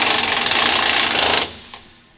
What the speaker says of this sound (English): He's torquing down the drive shaft bolts right now